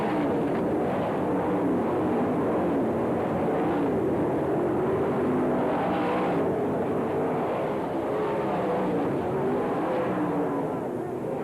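Sprint cars racing on a dirt track at the All Star Circuit of Champions Winternationals in Gibsonton, Florida, a sustained massed engine roar with swelling passes, and faint commentary running underneath.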